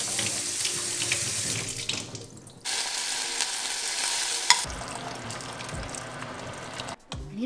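Cold tap water runs steadily into a kitchen sink, rinsing freshly cooked shrimp and cabbage to stop the cooking, a continuous splashing hiss that briefly drops out midway and cuts off near the end.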